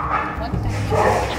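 A dog gives a few short yips and barks close by inside a vehicle, mixed with steady engine or road rumble and some background talk.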